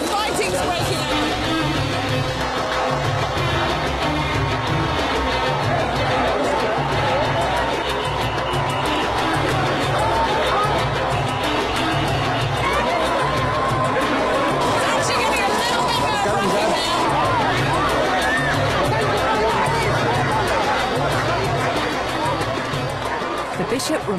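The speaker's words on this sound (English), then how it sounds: "They're trying to control the crowd with a barrier here, but it looks like fighting's breaking out." A dense crowd at a religious procession in Oman surging in chaos as fighting breaks out near a barrier: loud, constant shouting and babble with a rhythmic chanting pulse under it, with no break for the whole stretch.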